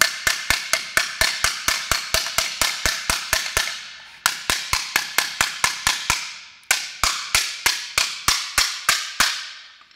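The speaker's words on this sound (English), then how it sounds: "We're going to start out with a small hammer," Rapid, sharp metallic strikes of a small hammer on a wheel lock in quick bursts, dozens of close, ringing blows with brief pauses between groups.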